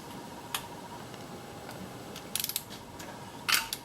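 A torque wrench clicks faintly while engine bolts are tightened during a Prius engine swap, giving a few sharp ticks and a quick cluster of clicks over a quiet background hum.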